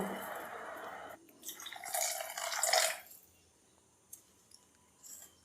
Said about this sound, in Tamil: நான் வந்து 3 கிளாஸ் அளவு தண்ணி சேர்த்துருக்கேன்.